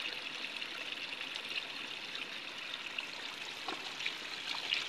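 Irrigation water flows into a farm field with a steady, continuous trickling and gurgling. The flow sounds close, holds the same level throughout, and no one speaks.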